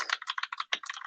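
Quick burst of typing on a computer keyboard, rapid close-up key clicks in a busy run with a brief pause, no talk over it.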